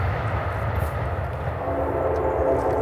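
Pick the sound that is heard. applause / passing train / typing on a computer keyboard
passing train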